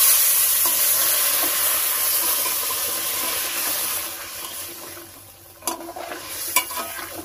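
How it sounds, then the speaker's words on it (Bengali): A pan of rohu fish curry with taro, just topped up with hot water, is stirred over the heat. It gives a loud, steady sizzle and simmering hiss that fades, then a few sharp scraping clinks near the end, with no talking. "এই যে এইবারে ভালো করে একটু নেড়ে দিলাম।"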